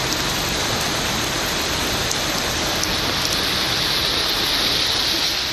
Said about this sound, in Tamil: மதுரை மாநகரில் 2வது நாளாக மழை பெய்தது.